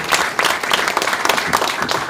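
Warm applause from the audience at the opening ceremony of the 2024 disabled football league in Suanbo, honoring the participating teams: dense, steady clapping from a crowd, close and fairly loud throughout.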